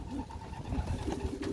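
Soft, low pigeon coos repeat a few times against a steady outdoor background, fairly close and moderately quiet.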